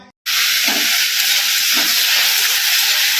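Water spinach fries in a pan with a loud, steady, close hiss that starts abruptly after a brief silence and continues unbroken, with faint low thumps beneath.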